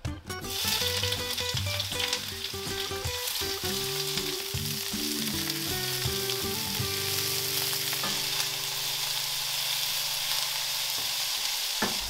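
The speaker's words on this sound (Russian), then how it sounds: "и жарим его на растительном масле." Onion frying in vegetable oil in a pan, a steady close sizzle with occasional stirring clatter near the start, continuous and even for the whole stretch.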